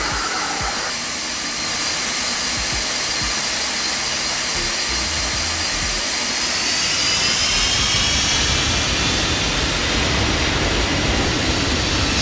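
A KLM jet airliner in the X-Plane 12 flight simulator, near a Boeing 747-200, roars with a steady, loud turbine whine and broadband rush that swells slightly and holds throughout, with no talk.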